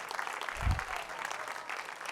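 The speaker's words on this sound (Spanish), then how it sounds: "Den un fuerte aplauso al Rey" A church congregation applauds for a king figure, a faint, steady wash of clapping in the room throughout, with a low thump near the start and no clear talk over it.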